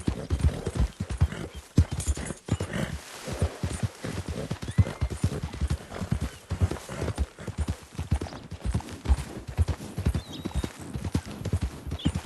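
Horses trot along in Red Dead Redemption II, their hooves clip-clopping in a steady, continuous rhythm. The sound is close and fairly quiet, with a faint whinny now and then and no talking.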